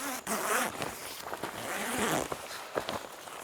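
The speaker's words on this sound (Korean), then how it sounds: "이렇게 지퍼만 연결하시면 되거든요" Zipper pulled to join an extension side skin to a Recollector Trees 16.2 living-shell air tent outdoors, a raspy continuous zipping with a few short tugs, close and alone.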